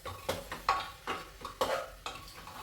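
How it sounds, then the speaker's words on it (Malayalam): Basmati rice with chicken and carrot is stirred in a pot for a quick pressure cooker biryani, with five or six rhythmic scraping strokes of a spoon against metal, close and fairly clear, with faint clinks between them. "ബസുമതി റൈസ് ചിക്കനും ക്യാരറ്റ് മിക്സ് ചെയ്യണം"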